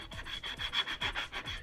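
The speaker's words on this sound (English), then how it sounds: "This is just a piece of reasonably coarse sandpaper or sanding block," A coarse sandpaper block rubs back and forth along the edges of a handmade helmet, giving about eight rhythmic, rasping strokes, close and steady with no talking.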